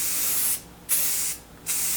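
A spray can lays a light coat of primer over routed sign letters in two short hissing bursts, close and fairly loud, with a brief pause between them.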